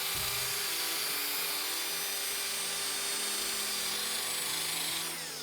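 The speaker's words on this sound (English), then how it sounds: "I just use a small drill with a little wire brush attachment." A small power drill with a wire brush attachment whirs steadily and continuously, a high-pitched motor whine with a buzzing scrubbing texture, close and unbroken throughout.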